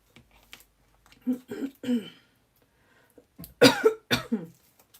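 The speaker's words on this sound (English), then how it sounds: "Sorry about the coughing. I literally cannot stop clearing my throat." Several short, sharp coughs and throat clearings in uneven bursts, close and fairly loud, with quiet pauses between them.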